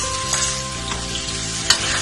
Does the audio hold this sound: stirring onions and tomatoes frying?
yes